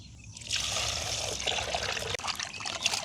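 Water pours and trickles steadily over dried fish being washed by hand, a close, continuous splashing wash with one brief break.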